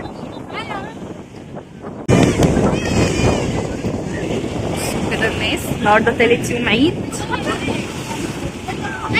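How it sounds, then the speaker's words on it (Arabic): Wind and sea waves on an Alexandria beach during the third day of Eid celebrations, with strong gusts buffeting the microphone and a steady wash of surf beneath someone talking throughout. "البحر هادي طبعا، في نسمة هوا"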